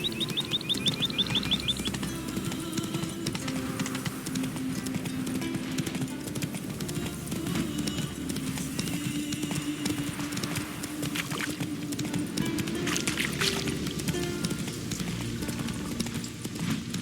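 Roach, a horse in The Witcher 3, clip-clops along at a steady run, its hoofbeats continuous beneath an in-game ambient music bed, with a brief bird chirp near the start.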